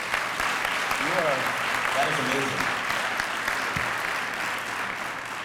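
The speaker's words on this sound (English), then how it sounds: "Can we have one more round of applause for this young lady?" An audience at a college event applauds a young woman after her speech, a steady, even wash of many clapping hands that fades slightly toward the end, with a brief spoken voice heard over it near the start.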